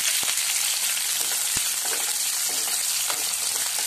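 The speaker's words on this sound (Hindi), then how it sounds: "अब मैं इसमें कटे हुए प्याज डालूंगी। जैसे प्याज मैंने डाल लिया है" Chopped onions sauté in hot oil for chilli chicken gravy, a loud, continuous close sizzle with a couple of sharp knocks as they go into the pan.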